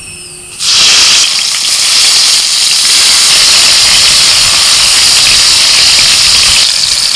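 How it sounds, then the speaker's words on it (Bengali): Bitter gourd coated in salt and turmeric frying in hot oil, a loud steady sizzling hiss that jumps up sharply after a quieter first half-second and then holds almost unchanged, with no voices. "করলাটা ভেজে নিচ্ছি"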